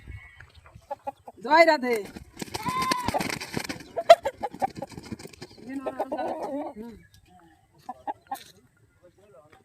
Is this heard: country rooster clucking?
yes